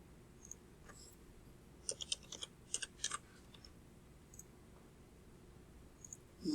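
Faint, sparse keyboard keys click as numbers are typed into a Desmos calculator, in a few short clusters of taps over quiet room tone.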